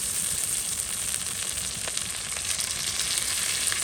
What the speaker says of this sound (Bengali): আদা রসুন ফোড়ন দিয়ে দেবো